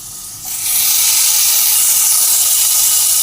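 Potatoes frying in hot oil in a pan for a curry, with ginger about to go in: a loud, steady sizzling hiss that swells after a brief quieter start and then holds close and constant, with no talking.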